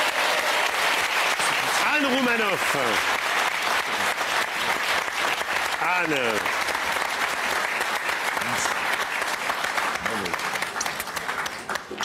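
Steady applause from a French radio studio audience runs throughout, with a voice speaking over it at intervals.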